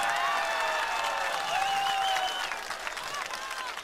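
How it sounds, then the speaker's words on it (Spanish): Sustained applause from a crowd, dense and continuous, with whistles and cheers rising over it before easing slightly toward the end. "Son los aplausos más fuertes que he recibido en toda mi vida."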